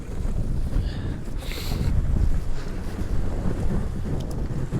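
A boat pushes through ice in a narrow channel, giving a continuous rough rumbling and grinding with wind buffeting the microphone throughout.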